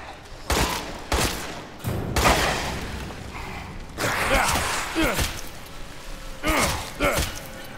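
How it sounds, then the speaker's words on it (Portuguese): Gunshots ring out in Resident Evil Village, several loud, sharp bursts separated by short pauses, with rumbling and scuffling sounds between them. "eu tô dando um tiro na boca, um tiro na perna"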